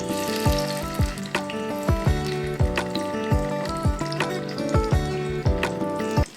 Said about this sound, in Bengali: তেল খুব ভালোভাবে গরম হয়ে যাওয়ার পর এর মধ্যে এক এক করে মাখিয়ে রাখা পটলের